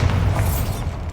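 Bombarda blasting spell explosion in Hogwarts Legacy, a short, heavy low boom with a dense rumbling body, heard alone.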